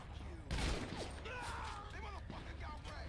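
Gunfire in GTA V, one heavy burst of shots followed by scattered rattling and mechanical sounds, with a voice talking over part of it.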